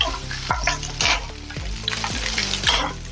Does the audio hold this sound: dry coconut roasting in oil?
yes